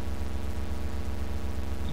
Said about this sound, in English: That is the van noise.